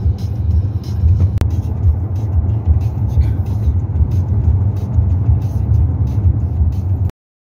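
A car driving on a road in Alaska on a long 2.5-hour trip toward Castner Glacier, heard from inside as a steady loud engine and road rumble with one brief sharp click, no talk.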